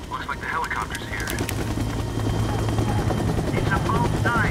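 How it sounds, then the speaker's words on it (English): A helicopter arrives in a game scene, its steady low rotor thump and engine drone running throughout while voices and radio chatter carry over the top. "Looks like the helicopter's here."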